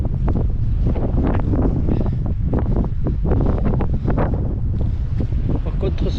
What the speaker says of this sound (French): il y a le vent qui commence à souffler